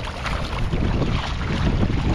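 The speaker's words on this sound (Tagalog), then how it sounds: "Malakas yung hangin." Strong wind buffets the microphone in a steady, loud roar, with a rumbling low rush throughout and no voices.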